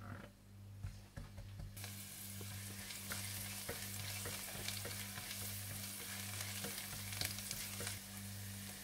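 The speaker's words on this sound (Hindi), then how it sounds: "तेल गर्म होने के बाद आप इसमें सब्ज मिर्चें डाल दें और थोड़ा सा भून लें।" Green chilies fry in hot oil with a steady, dense sizzle throughout and a few stirring clicks, close up, with no talk.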